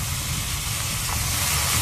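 Water poured onto turmeric, cinnamon, cloves and cardamom frying in hot oil for a Bengali potol dish brings a loud, steady, close sizzling hiss that fills the moment without pause, no voices present.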